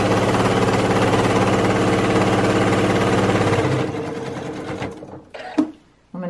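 Sewing machine stitching a pleated fabric face mask, a fast loud rhythmic whirring hum that runs steadily for several seconds, then stops and gives way to brief fabric handling and quieter bumps.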